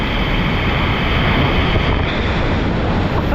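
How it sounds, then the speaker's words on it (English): A 7 m waterfall seen from a kayak produces a loud, steady, close roar of rushing water with wind buffeting, a dense unbroken wash with no voices. "This is our first waterfall."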